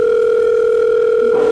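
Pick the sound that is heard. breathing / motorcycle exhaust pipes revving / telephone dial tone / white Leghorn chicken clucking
telephone dial tone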